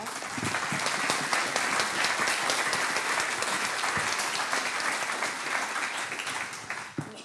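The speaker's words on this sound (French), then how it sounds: "On peut vous applaudir, je pense." An audience at the CGE 2018 congress applauds a Veolia executive after his talk, a long, steady wash of many hands clapping that holds at full strength and eases slightly near the end.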